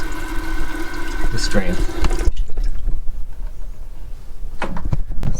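An RV bidet sprays water at full strength, a strong hissing jet for about two seconds that cuts off abruptly, followed by quieter dripping and faint activity, with someone speaking briefly over it.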